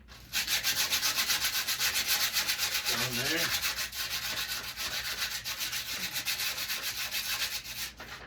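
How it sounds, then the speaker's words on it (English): Steady rhythmic rubbing of wet sandpaper on a surface, close and continuous, with a brief spoken remark partway through. "More or less wet sanding than anything at this point."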